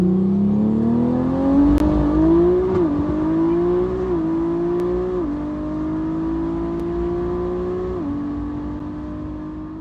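A stage 2 tuned BMW G42 M240i engine revs hard with rising pitch, then climbs again through several quick shift steps, loud and close with no talk.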